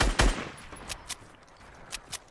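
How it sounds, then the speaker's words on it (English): Gunfire in a first-person shooter video game: a loud sharp shot at the start followed by several fainter distant cracks spaced irregularly, with no talk. "I heard a snipe go off"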